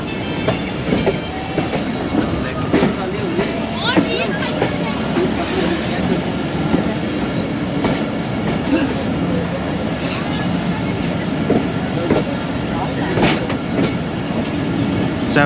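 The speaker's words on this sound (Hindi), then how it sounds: "5 अप ग्रीन लाइन को लूप लाइन के ज़रिए से ओवरटेक कराया जा रहा है" The Green Line express passenger train runs on the loop line in Punjab, Pakistan, to overtake another train standing on the main line, making a steady, loud rumble with rhythmic clickety-clack of wheels over rail joints close by throughout.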